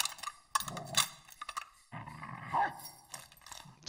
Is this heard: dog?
yes